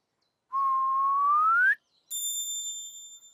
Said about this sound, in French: C'était un sifflement.